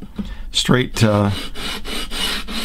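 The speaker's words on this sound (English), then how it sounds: "What I'm going to do is just start sanding away" A 220-grit sanding block is rubbed along a guitar fretboard to level the neck, giving steady raspy scraping strokes close by, while someone speaks briefly over the start.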